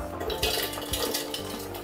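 Hard chunks of praline sliding into a cooking blender, clinking and rattling against the bowl in a dense, close jumble of knocks for under two seconds.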